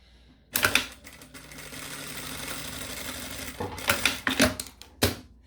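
A sewing machine stitches a zippered pleated wallet, running in a steady whirring burst that ends with a few short, rapid mechanical clatters, close and distinct with no talking.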